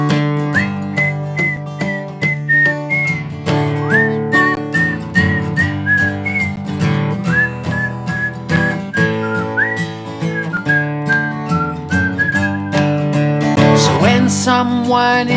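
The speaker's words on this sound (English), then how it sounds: "See if you can whistle with me." A person whistles a tune at a live family concert, clear sustained melodic notes moving up and down in a lively phrase over steady instrumental accompaniment, loud and close throughout.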